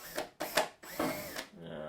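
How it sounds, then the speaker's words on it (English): A power drill bores a small hole through a wooden shield in short bursts, three or four whirring runs with brief pauses between them, close and fairly loud. "We're going to drill a quick little hole through there"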